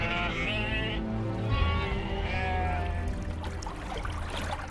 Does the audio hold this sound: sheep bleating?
yes